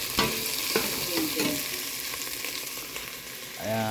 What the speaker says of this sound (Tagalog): Ginisa na natin yung bacon at saka yung sibuyas.